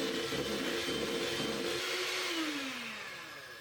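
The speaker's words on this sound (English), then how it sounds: "Now give it a good mix" Butterfly cake batter with vanilla extract and baking powder whirring steadily in an electric mixer, a loud continuous motor drone whose pitch slides downward near the end as the machine winds down.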